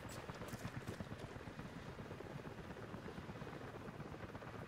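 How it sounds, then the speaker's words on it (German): Helicopter in the video game Rise of the Tomb Raider, a continuous rapid rotor thump that stays steady and moderately distant throughout. "Hörst du den Heli?"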